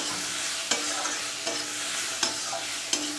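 Bitter gourd fish curry stirred in a pan, a continuous sizzle broken by four evenly spaced scrapes of the spatula against the pan, close and clear with no talking.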